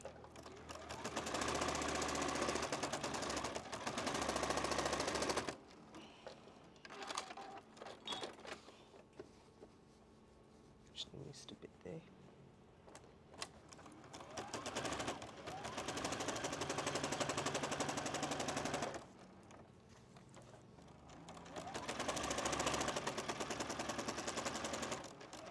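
A sewing machine stitching down quilt sashing runs in long steady loud bursts with a pause in the middle, then starts stitching again.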